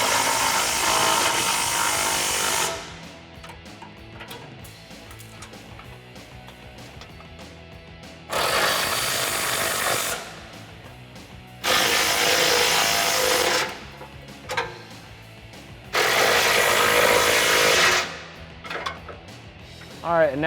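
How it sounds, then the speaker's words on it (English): Bumper bolts on a 2004-2008 Ford F150 being tightened with an 18mm socket and wrench: four loud bursts of rapid ratcheting, each a few seconds long, separated by quieter pauses with small clicks and handling noises. "using an 18mm socket and wrench, I'm going to tighten up all my wing bolts to get the bumper fully secured"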